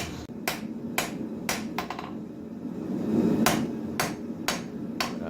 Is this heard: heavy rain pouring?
no